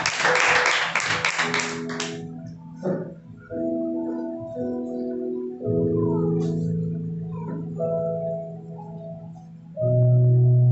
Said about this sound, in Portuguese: Dê uma salva de palmas, Senhor.